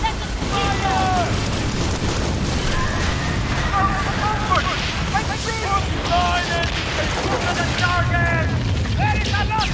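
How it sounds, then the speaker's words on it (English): Ship cannons fire in the pirate naval combat game Skull and Bones, with loud layered booms rolling continuously under a busy mix of music and crew shouts. "Captain, we are ready! Let us fire!"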